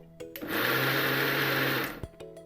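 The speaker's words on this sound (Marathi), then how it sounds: "मी असे चार चमचे तेल टाकून घेतलेले आहे आणि आता आपण आता परत एकदा फिरवून घेऊ" A mixer grinder whirs loudly for about a second and a half, grinding a coarse coconut garlic chutney with added oil, starting and stopping abruptly with brief clatter around it.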